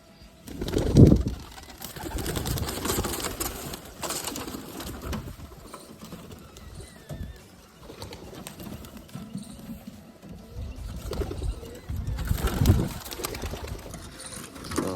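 Soft cooing of pigeons close by, mixed with flapping and shuffling bursts and scattered bird calls, with no talking.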